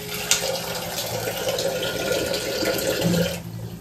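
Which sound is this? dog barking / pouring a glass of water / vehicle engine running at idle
pouring a glass of water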